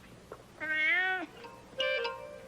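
A cat meows twice at close range in a quiet indoor setting: a long, drawn-out meow first, then a shorter second one after a brief pause.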